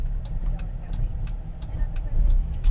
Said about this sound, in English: we're going around Penang in a Jeep